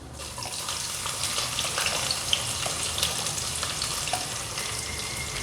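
Onion frying in a pan with mustard seeds, cumin and urad dal for semiya upma, a steady close sizzle with occasional stirring scrapes and no talking.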